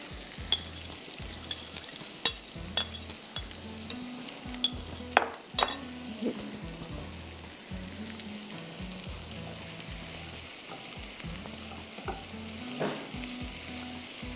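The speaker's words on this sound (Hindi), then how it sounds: "इसमें मैं सारी सब्जियां डाल रही हूँ, उसको 1-2 मिनट फ्राई करूँगी" Mixed vegetables frying in butter in a pan for a pizza topping, a steady soft sizzle with scattered utensil clicks and scrapes as they are stirred, moderately quiet and close, with no talking.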